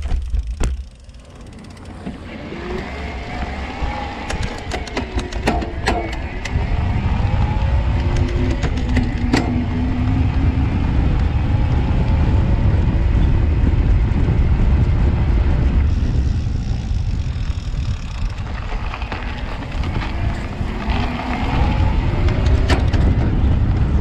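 A 2019 Specialized Turbo Levo Expert electric mountain bike being ridden produces a steady rumble of rolling tires and rushing wind, with intermittent rattles and ticks from the trail, fairly loud and continuous, without speech.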